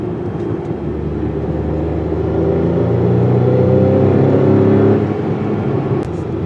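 A 2021 Acura TLX SH-AWD Advance with a 4-cylinder engine is driven hard on the road, its engine revving up and rising loud and close in pitch before easing off, with no talking.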